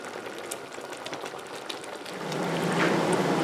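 Quince simmering in a pot for marmalade, a steady bubbling hiss that swells louder near the end, with no voices over it.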